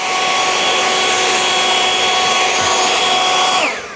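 A Greenworks 60-volt battery leaf blower on its turbo setting roars in a loud, steady, high-pitched whine, then winds down at the end.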